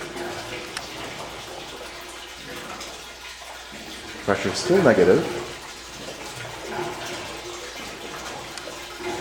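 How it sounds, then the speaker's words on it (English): Water drains from a column as air bubbles enter, a soft continuous trickle with a louder gurgling burst midway, heard under a voice. "Now air bubbles are going into the column, and that is allowing the water to drain."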